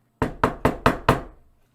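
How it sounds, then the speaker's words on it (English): Five loud, evenly spaced knocks on a back door at night, sharp and close with a brief ring after each, then silence. "He knocked, loudly."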